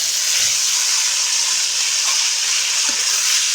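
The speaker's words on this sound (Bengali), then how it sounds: "পোস্তটা একটু ভেজে তারপর খোলাগুলো দিয়ে দেবো" Bottle gourd peels go into hot oil with poppy seeds, giving a loud, steady sizzling hiss that stays constant throughout, with no talking.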